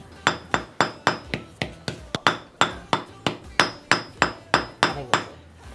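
Hammer tapping a bearing seal flush during a Toyota LandCruiser 80 series build, about eighteen sharp, evenly spaced metallic taps in a steady rhythm, close and fairly loud.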